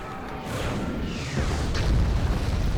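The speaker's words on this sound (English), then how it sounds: "bombing run is going in" Bomber squadron explosions in Star Wars: Empire at War, heavy booming blasts building in two waves, loud and rumbling with whooshing debris over a low roar.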